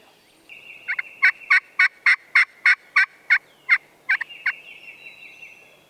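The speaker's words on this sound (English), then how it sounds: "this bird has gobbled at the calls several times." A wild turkey gobbles in a rapid series of about a dozen loud, evenly spaced bursts, answering hunting calls outdoors, with a faint steady hum underneath.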